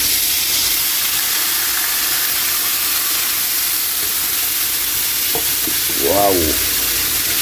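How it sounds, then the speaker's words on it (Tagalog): Pork for salpicao fries in plenty of hot cooking oil with a loud, continuous hiss and sizzle. A brief voice-like sound rises near the end. "Lagay na natin ang ating pork. Yan. Hindi na natin bawasan yung mantika."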